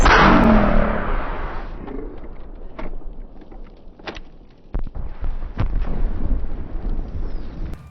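A rocket launcher fires in Modern Warfare 2 on the Border Crossing map with a loud, booming blast up front, followed by scattered distant thumps and cracks of gunfire.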